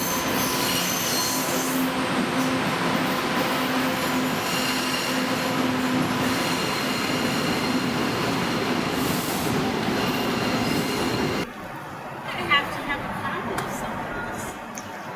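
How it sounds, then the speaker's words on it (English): A subway E train pulls into a station, its wheels squealing loudly and steadily against the rails for several seconds with some voices faintly in the background, then the noise drops off abruptly near the end. "The next E train to Heath Street is now arriving."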